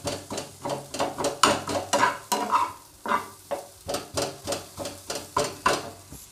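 Cauliflower for gobhi paratha frying in a pan, stirred with a utensil in steady repeated scrapes over a soft sizzle, close and fairly loud, with no talking.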